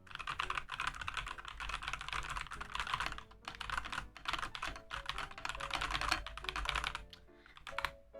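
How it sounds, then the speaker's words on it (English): Brisk typing on a computer keyboard, close and crisp, with rapid irregular clacks in bursts and short pauses between runs of keystrokes, no voices. "I just like hearing my keyboard because like my keyboard sounds so nice."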